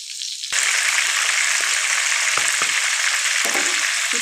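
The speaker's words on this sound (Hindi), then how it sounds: "चिकन को फ्राई होने के लिए मैंने डाल दिया है सॉस पैन में।" Chicken pieces dropped into hot oil in a saucepan for seekh kabab karahi, an abrupt loud sizzle that bursts in and holds steady with occasional pops and crackles.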